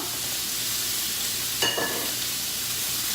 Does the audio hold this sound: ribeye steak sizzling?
yes